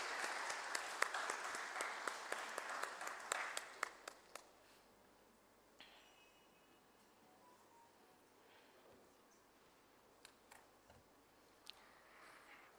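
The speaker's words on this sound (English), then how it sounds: "Ladies and gentlemen, please put your hands together" Audience applause at a stock listing ceremony for a textiles company: a burst of rapid, fairly close clapping fades after a few seconds into a quiet room with a few isolated claps and ticks.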